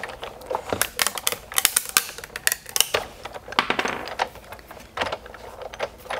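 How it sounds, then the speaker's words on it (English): A die cutting machine presses ghost overlays for a Halloween card, giving a close, rapid run of clicky mechanical ratcheting and tapping that goes on steadily throughout. "so I'm going to die cut my ghost overlays."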